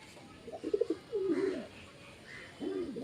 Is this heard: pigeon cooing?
yes